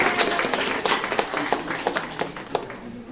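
An audience at a convention panel claps in a brief, scattered burst of close hand claps that thins out quickly, with faint voices in the room.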